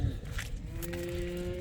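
A bull lows in a farm field, a steady droning moo held for over a second, moderately close, with faint outdoor background noise and no speech.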